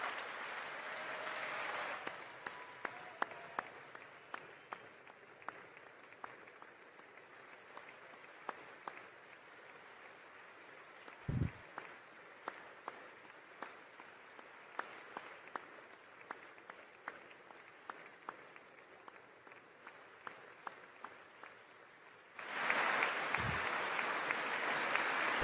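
Crowd applause at the State of the Union address swells loudly at the start and again near the end, with quieter, scattered room noise and clicks in between.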